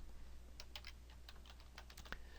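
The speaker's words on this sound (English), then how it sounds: "I'm typing the word glitter" Quiet typing on a computer keyboard while entering a word during Photoshop work, a handful of light, close key clicks in an uneven rhythm over a faint steady hum, with no voices.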